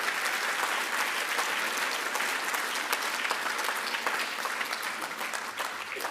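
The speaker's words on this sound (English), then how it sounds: "We have to first and foremost put a round of applause for Friends of Al-Aqsa" A large audience at the Palestine Expo 2019 gives a sustained round of applause, dense clapping holding steady and loud for the whole stretch with no speech over it.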